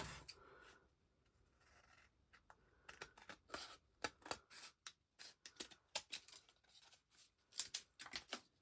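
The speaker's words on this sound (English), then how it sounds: "I'm going to turn it over and I'm going to cut all these extra pieces off" Scissors snipping off excess paper edges while making a mood board: a string of crisp, close cuts in an uneven rhythm, faint at first and then growing steadily busier, with no talking.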